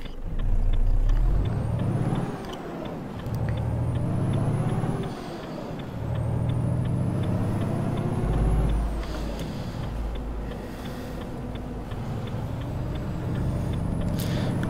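Simulated heavy truck from Euro Truck Simulator 2 driving steadily, engine drone rising and falling with gear shifts, air brake hisses and a faint ticking indicator, no talking.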